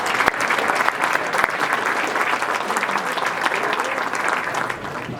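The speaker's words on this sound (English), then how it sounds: "applause for this year's winner, Angela Aulenti from Sterling Farms" Audience applause for the 2019 Merchandiser of the Year winner, Angela Aulenti of Sterling Farms, a steady, dense clapping from a sizeable crowd that holds for several seconds before tapering slightly at the end.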